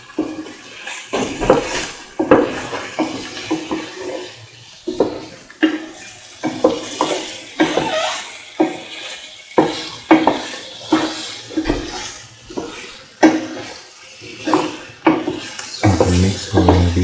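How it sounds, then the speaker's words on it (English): Cottage cheese and capsicum are sautéed in a pan, with a spatula scraping and tapping the metal in steady repeated strokes, close and moderately loud, with no voices. "Keep on sauteing."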